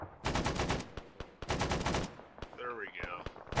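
Rapid bursts of automatic enemy gunfire in the military shooter Arma, long rattling volleys broken by single sharp shots, loud and close, with a short whistling streak near the end.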